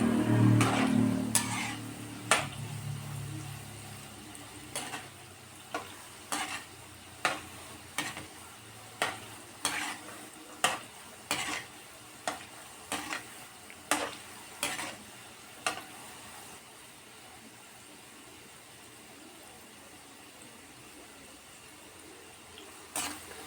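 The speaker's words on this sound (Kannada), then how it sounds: "ಈಗ ಎಲ್ಲದು ಜಾಮೂನ ನಾನು ಇದೇ ರೀತಿ ಕರೆದಿಟ್ಕೊಂಡ್ಬಿಡ್ತೀನಿ ಸ್ನೇಹಿತರೆ" Gulab jamun dough balls fry in oil, with a steady low sizzle under a run of sharp, regular clinks and scrapes from a utensil stirring and turning them in the pan, fading toward the end.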